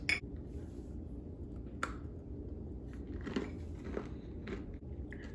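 Someone bites into and chews a homemade zero-calorie Oreo-style cookie up close, with a few sharp crunchy bites followed by softer, irregular chewing over a low background rumble.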